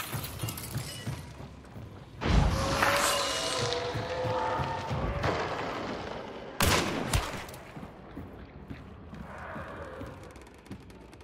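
Gunfire in a hardcore first-person shooter game: two sharp, loud shots with crashing echo tails, then scattered quieter reports and a fading rumble, with no talk.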